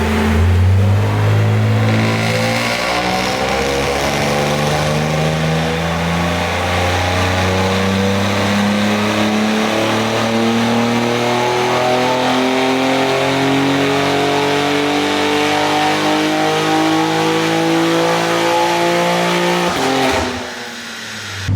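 A tuned BMW G80 M3 engine revs hard in one long sustained pull, its loud rising drone climbing steadily for about twenty seconds before cutting off abruptly near the end.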